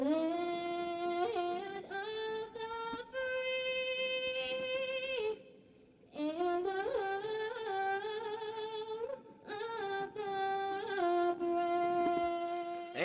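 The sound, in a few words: national anthem performance before football game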